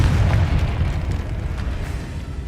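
A Confringo fire spell in Hogwarts Legacy bursts into a heavy, rumbling explosion, with a dense low boom that sustains loudly for a couple of seconds, and no talking.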